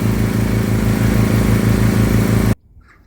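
A portable generator running in the back of a van during a mobile DPF cleaning on a Land Rover Discovery Sport, a loud steady engine drone with a pulsing rhythm that cuts off abruptly near the end.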